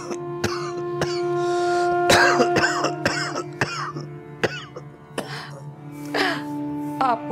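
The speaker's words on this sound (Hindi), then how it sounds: "आपको क्यों खांसी हो रही है" Repeated coughing and throat clearing from a man in a televised Pakistani drama scene, sharp bursts spread across the stretch at close range, with a wheezy gasp mixed in over a steady tonal background.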